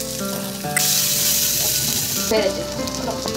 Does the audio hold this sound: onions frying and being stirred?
yes